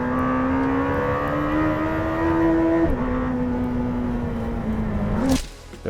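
Lamborghini Temerario V8 hybrid super sports car on a track, its engine droning steadily with a rising pitch, stepping down at a gear change near the midpoint and climbing again before cutting off abruptly near the end.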